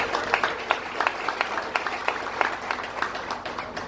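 An audience at a philosophy café event in Haiti applauds, a dense run of claps that is moderately close and steady throughout, with a faint voice underneath.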